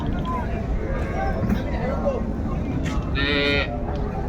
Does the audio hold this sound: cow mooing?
yes